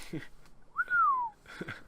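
A person gives one short whistle that rises, then slides down in pitch, close to the mic, with brief talking just before and after.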